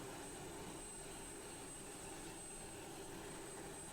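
An F-16 fighter jet roars at a Children's Day air show at an air base, a steady, distant broadband jet rush that holds at an even level throughout, with no voices.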